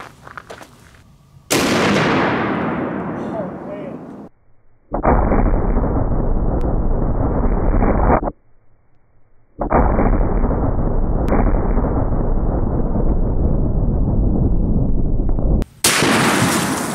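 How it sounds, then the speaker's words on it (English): Armor-piercing incendiary tracer rounds from a 50 BMG rifle fired at an anvil: loud, punishing blasts with long, noisy roaring tails that fill the clip in several separate bursts. "Okay, last shot with the 50 BMG, and again, we're gonna use the silver and red tip, armor piercing, incendiary tracer."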